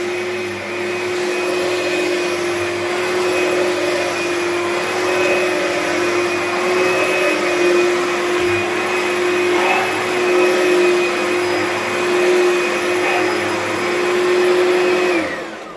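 An Oreck Magnesium vacuum cleaner runs at its higher speed over carpet, giving a loud, steady motor whine with a strong sustained tone that holds unchanged close to the listener.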